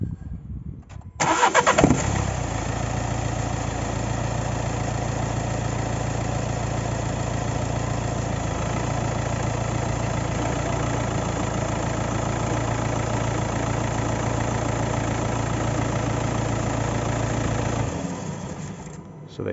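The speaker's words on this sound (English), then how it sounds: "So if we start the engine like so" A car engine cranks briefly and catches, then settles into a steady, even idle that runs on before cutting out at the end.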